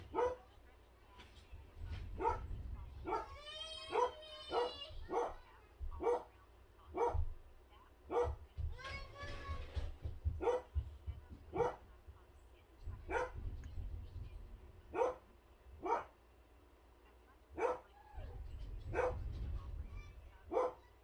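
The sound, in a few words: dogs barking excitedly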